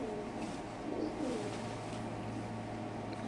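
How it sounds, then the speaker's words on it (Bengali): Male racer pigeon at a pigeon farm cooing faintly, low soft coos buried in a steady background hum of fans or ambient noise, no voices. "একটা নর কবুতর মাশাআল্লাহ দেখেন"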